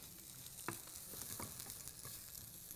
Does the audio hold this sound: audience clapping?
no